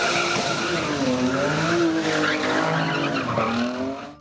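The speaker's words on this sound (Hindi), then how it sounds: "साइलेंसर से निकलती फलक शगाफ आवाजें ऐसी कि आसमान सर पर उठा" Sports cars and heavy motorbikes at an auto show held at an engineering university in Karachi, with a loud, sustained engine roar and rising and falling revs, close by and continuous before easing off at the end.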